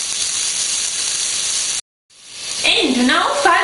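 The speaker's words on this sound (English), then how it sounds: "We mix and we cook the onion during 5 minutes." Chopped onion fries in vegetable oil with a steady, loud sizzling hiss, breaks off briefly, then resumes under a speaking voice.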